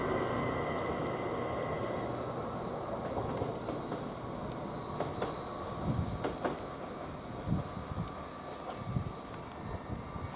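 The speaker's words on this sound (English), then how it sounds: "Now this greater angler, which is the 12:09, leaving about a minute late, which is from Peterborough towards Ipswich." A Greater Anglia train pulls out of March station bound for Ipswich, a steady low rumble and hum with scattered clicks and squeals of wheels on rail, moderately distant and continuous throughout.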